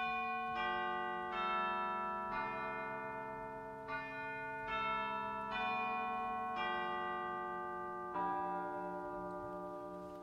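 A digital chimes stop on an E.M. Skinner pipe organ strikes about eight bell-like notes in a slow, steady sequence, each ringing out and decaying, clear and fairly close with no voices.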